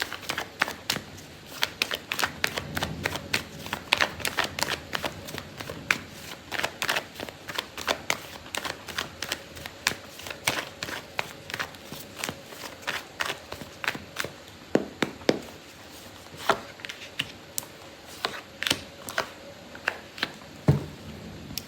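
Tarot cards shuffled and dealt during a love reading, a long run of crisp riffling slaps and snapping taps in irregular bursts, close and fairly loud, with no voices.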